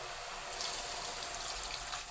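Water pours softly into a cooking pot for pinakbet, a faint, brief, steady trickling splash with no voices.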